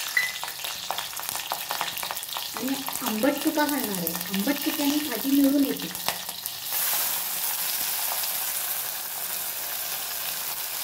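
Green chillies fry in hot oil in a pot, a continuous close crackling sizzle with stirring. A person talks over the middle stretch before the frying carries on alone.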